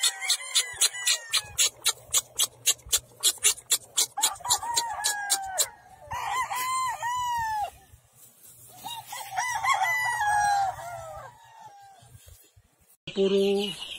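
Gilmore gamefowl roosters on a gamefarm crow loudly in several overlapping calls, with a rapid burst of clucking at the start and more crows after.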